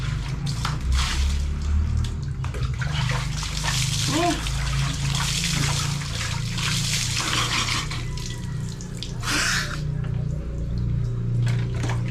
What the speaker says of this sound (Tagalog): Dito na lang tayo makaligo